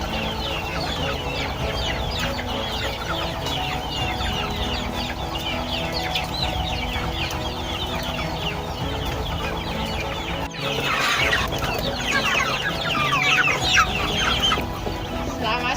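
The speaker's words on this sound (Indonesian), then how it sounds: "Ini jenis ayam kampung super ya." Free-range kampung super chickens cluck steadily and close by on a farm, a dense continuous flock chatter with a brief louder burst near the end and no speech.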